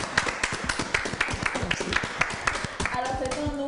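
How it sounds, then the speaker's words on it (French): Audience clapping at a fashion-week gathering in Lomé, a dense run of claps lasting a few seconds, fairly close and steady, with voices in the room underneath. "On va applaudir."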